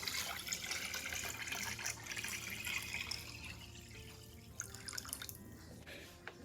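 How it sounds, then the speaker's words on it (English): Cold water, eight cups, pours steadily into a pitcher of cranberry sweet tea, a continuous splashing trickle that runs close and fairly quiet, without talk. "we're going to add in 8 cups of cold water"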